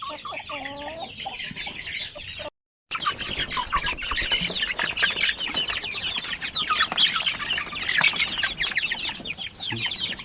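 Sampin native chickens, a pure breed, cluck and chatter continuously at close range, with overlapping calls and brief wing flaps throughout.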